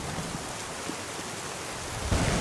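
Steady rain hisses in a dense wash, and a low thunder rumble swells near the end, with no voices.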